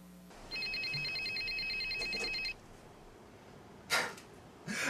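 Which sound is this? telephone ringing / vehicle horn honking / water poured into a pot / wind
telephone ringing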